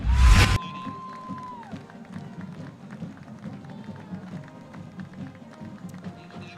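Crowd cheering in the stands at a high school football game between Roma and Edinburg Economedes: a loud burst at the start, then a steady, distant murmur of crowd noise with scattered shouts.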